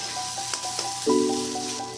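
Mixed vegetables with bitter gourd frying in oil, a close continuous sizzle punctuated by light utensil taps and a brief louder stirring clatter, with no speech.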